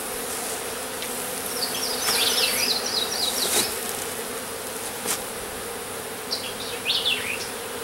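Steady honey bee buzzing at a hive hums through the whole stretch, with a few bees droning past close by and some brief higher clicks and rustles.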